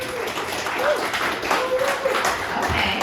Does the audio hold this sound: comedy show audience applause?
yes